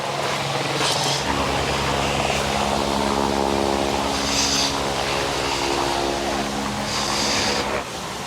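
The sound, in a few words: helicopter flying overhead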